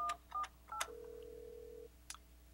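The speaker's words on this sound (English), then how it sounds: "Hit the transfer key, the extension we'd like to reach." Keypad tones sound as an extension is dialed on an Alcatel-Lucent 8068s desk phone: a few short separate beeps, then a longer held tone, and a brief chirp near the end, all quiet and close.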